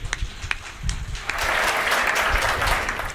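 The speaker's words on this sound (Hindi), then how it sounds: "तालियां बहुत कमजोर पड़ गई हैं आप" Audience applause at a Hindi comic poetry recital (hasya kavi sammelan), starting with scattered claps and then swelling into steady, dense clapping from a large crowd that holds to the end.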